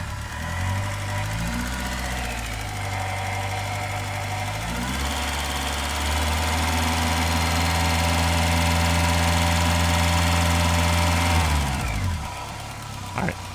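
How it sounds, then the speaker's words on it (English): A heavily modified 2001 Honda S2000 engine idling and then revved: a steady mid-pitched hum climbs to a sustained higher rev, holds for several seconds with a slight rattle, then drops back to idle. "let's see if I can rev it up a little bit"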